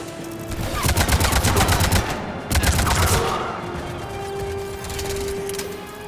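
Gunfire from the video game Mass Effect 3: rapid bursts of shots crackle over a couple of seconds, then a heavier pop, before the firing trails off into quieter background game sound.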